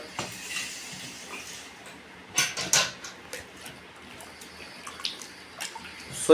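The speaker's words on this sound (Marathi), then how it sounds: "हे सर्व पीसेस धुवून घ्यावे।" Cut pieces of freshwater vam fish washed in clean water, with soft trickling and several brief splashes and sloshes, close by and without talk.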